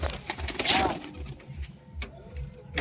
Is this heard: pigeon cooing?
yes